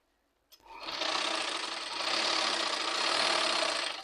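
A sewing machine runs steadily while stitching a saree fall, a continuous loud whirring hum that starts abruptly after a brief silence and carries on without pause.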